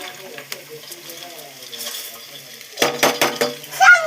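Sprouted green gram tipped into a hot frying pan, a soft sizzle and scraping stir with a sudden louder burst of crackling and utensil clinks near the end.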